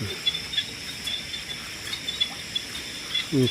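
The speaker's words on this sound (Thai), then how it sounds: "เสียงกบอบอบอยู่นี่" A rice field at night after heavy rain gives a continuous trilling chorus of frogs and insects at moderate distance. Soft scattered calls rise over it, and a brief low rumble closes the moment, with no voices.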